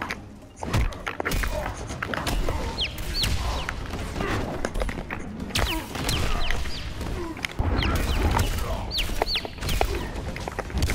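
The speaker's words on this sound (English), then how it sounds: "Damn chickens." Chickens cluck and squawk in the Easter Tower of Mortal Kombat X, a busy stream of short bird calls over steady game thumps and crashes, loud and continuous.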